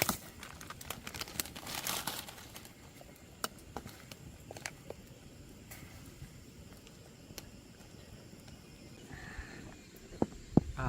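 Instant noodle packets crinkle and tear as they are opened and dropped into a cooking pot outdoors in the wilderness, with soft scattered rustles and sharp clicks over a quiet background.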